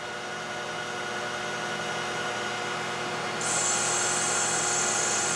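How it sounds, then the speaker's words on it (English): Metal machining at a high feed rate with a 30 thousandths depth of cut and high spindle speed produces a steady, dense, grinding whine that is loud and close and rises slightly partway through. "I'm going to try 30 thousandths depth of cut"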